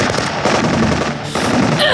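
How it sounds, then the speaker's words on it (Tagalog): Rifle gunfire in an audio drama comes as a dense, continuous rattle of shots, loud and close, with a short dip partway through before the firing resumes at full strength. "nakarinig ako ng mga putok ng barel"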